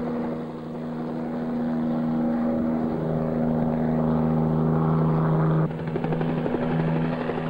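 A helicopter flies over an offshore oil platform at sea, its steady droning rotor thrum and engine hum loud and continuous, shifting in tone partway through as it passes.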